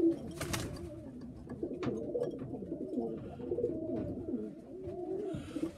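A pigeon at a bird show coos in soft repeated rolling calls, close and steady over a low background murmur.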